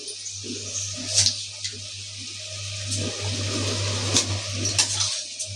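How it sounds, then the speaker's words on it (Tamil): Washed rice tipped into a pot of mushroom biryani gives a steady watery pour with splashes and bursts of rushing liquid, over a constant low hum, with no talking. "இந்த ஸ்டேஜில் நம்ம எடுத்து வச்சிருக்க ரைஸ் சேர்த்துக்கலாம் ஃப்ரெண்ட்ஸ்"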